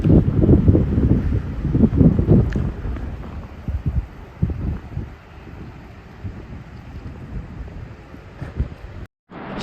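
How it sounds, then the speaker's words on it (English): Wind buffets the microphone on a boat trip along the Delaware River near the Roebling Bridge, a loud rumbling gust-driven roar that is strongest early and eases later, with no voices. "Switch cameras here because it's a little windy."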